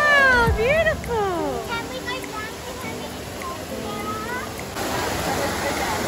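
Water from Rome's Trevi Fountain rushes and splashes in a steady wash. Excited voices, including a child's, talk over it at first, and then the water carries on more plainly beneath the faint murmur of the crowd.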